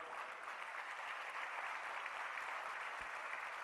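Sustained applause fills a hall at a Fratelli d'Italia political conference, an even, continuous wash of many hands clapping at a distance with no break.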